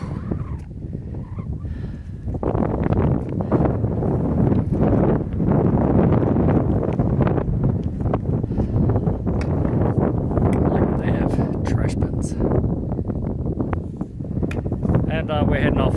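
Strong wind rushes steadily across a mountain viewpoint, loud and close, buffeting the microphone with a continuous roar while someone speaks over it.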